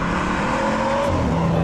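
A used car with over 500 hp accelerates hard, its engine roaring steadily and climbing in pitch throughout a short, loud, continuous burst.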